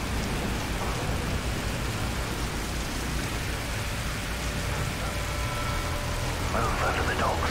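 Steady rain pouring in a storm at night by docks and boats in Call of Duty: Modern Warfare 3, a dense continuous hiss with low rumbling undertones, constant and loud throughout.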